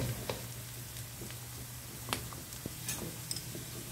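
Onion, garlic and ginger fry in oil in a pan for chicken curry, a steady close sizzle with a low hum underneath and occasional small pops and ticks.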